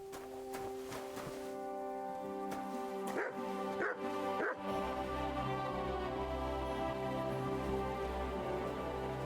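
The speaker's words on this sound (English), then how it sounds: "You silly doggy." A dog in the video game Kingdom Come: Deliverance II barks and yips in a few quick bursts over a steady bed of sustained game music.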